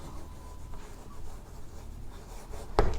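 Chalk writing on a classroom blackboard, a soft scratchy rubbing in short strokes that ends in one sharp tap of the chalk against the board, heard close with no voices.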